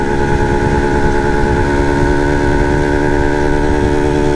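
A Yamaha TZM two-stroke motorcycle engine runs steadily in sixth gear, a loud, continuous buzzing drone that holds at an even pitch throughout, heard close with no talking.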